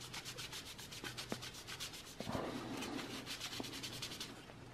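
A CPU is wiped down with 70% rubbing alcohol during an HP Z230 workstation processor upgrade, giving a steady, close, soft rhythmic rubbing of cloth on metal that lasts the whole stretch, slightly louder midway, with no talk.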